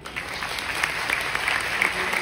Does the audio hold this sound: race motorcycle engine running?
no